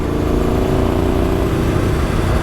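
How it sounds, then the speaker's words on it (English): Steady Yamaha Tenere 700 engine rumbling at a constant idle-to-cruise level, loud and continuous with a coarse low drone; occasional exhaust pops after ECU remapping are hard to pick out. "I can hear my exhaust popping sometimes after the ECU mapping."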